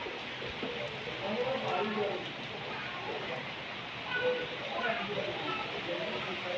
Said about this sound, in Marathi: बघायचं बघा पाऊसच पाऊस